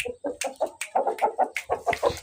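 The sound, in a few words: fighting rooster clucking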